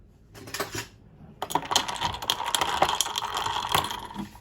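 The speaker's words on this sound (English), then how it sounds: "Don't you just love that sound of iced coffee?" Ice cubes rattle and clink against the glass as iced coffee with milk is stirred. After a brief knock there is a fast, continuous jangle of close, bright taps and no speech.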